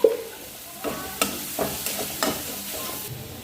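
Turmeric and coriander powder sautéed in a pan, several short scraping stirs with a soft sizzle underneath, close and fairly quiet, no talking.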